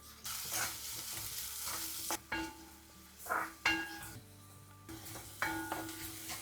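Onions and salt hit hot oil with whole fennel and cumin seeds in a home kitchen, sizzling and frying with several bursts of stirring and scraping against the pan, close and clear, no talking.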